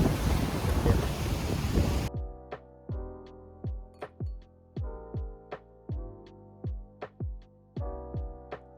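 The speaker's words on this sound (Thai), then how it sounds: "อ๋อลมเย็นนะครับลมเย็นดี" Cool wind gusts loudly into the microphone outdoors near Samyan Mitrtown, a harsh steady rush that cuts off after about two seconds. A series of rhythmic, decaying plucked tones follows.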